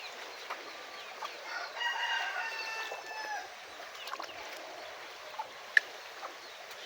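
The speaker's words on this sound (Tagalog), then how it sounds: "Yung manok ko pala doon sa ilalim ng aking kubo" Chickens sheltering under a hut during a flood cluck and call softly at a distance, with a faint crow-like rising call near the start, set against a steady wet background hiss.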